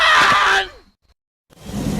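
Baboon call from a Lion King video game: a loud, harsh, excited screech lasting about half a second and sliding down at the end. A pause of near silence follows, then a burst of rough, noisy chatter returns.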